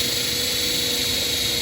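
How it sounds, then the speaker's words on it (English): A power drill runs loud and steady with a high, continuous whine and no pauses as it bores a hole through car body metal during a wide body kit installation. "So we'll go ahead and drill this next one."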